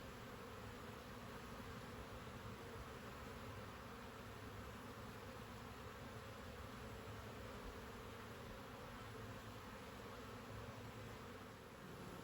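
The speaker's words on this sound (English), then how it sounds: "there is a noticeable difference in the increase in the hive sound" Honeybees buzzing steadily around the entrance of a Layens hive swarm trap outdoors, a dense continuous hum with no voices.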